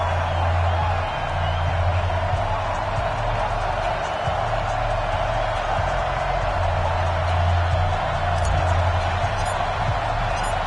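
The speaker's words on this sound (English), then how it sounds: "This crowd is ready as their guys get set to match up between the Oakland Raiders and the Denver Broncos." A steady wall of stadium crowd noise swells and cheers throughout an American football video game matchup between the Oakland Raiders and Denver Broncos on PS4, loud and continuous with a low rumbling hum beneath.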